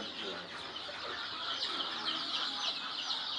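Dense, constant high peeping from many chicks crowded in a cage at a poultry training and production centre, a continuous shrill chorus close by with no pauses.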